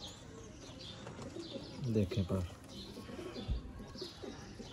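A golden pigeon coos softly in a few low, rolling calls, with faint chirps around it and someone speaking nearby over the quiet background.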